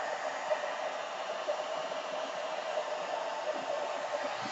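A hair dryer set on a low speed heats hair during an Aphogee protein treatment, a steady close breathy whoosh that holds level the whole time with no talking.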